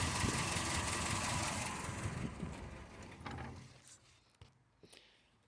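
DS wagon car engine idling low and steady, a soft rumbling drone close by that fades toward the end, leaving a few faint mechanical clicks.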